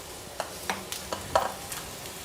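Chopped bottle gourd goes into a hot pan with green chilli, giving soft sizzling and a few quick scraping stirs, close and fairly quiet.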